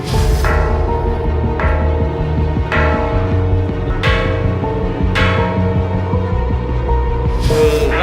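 Temple bells at Wat Pa Lelai are struck one after another, starting with the largest, each giving a bright metallic clang that rings and fades over a low humming drone, about five strikes at roughly even intervals, loud and close.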